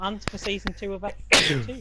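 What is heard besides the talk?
sneeze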